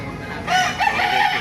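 A kanawayan gamefowl rooster crows once nearby, a loud drawn-out call rising and holding over market background noise at a Baliuag poultry fair, with no talking over it.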